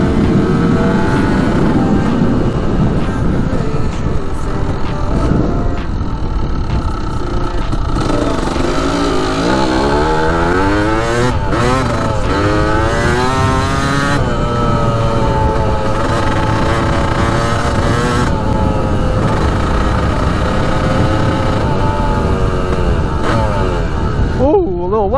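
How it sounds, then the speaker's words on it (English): A Kawasaki KDX 200 dirt bike rides a lap across tall grass, its engine revving and droning continuously with rising and falling pitch, close and loud, while a person talks over it. "Let's take it for one more lap on the grass over here."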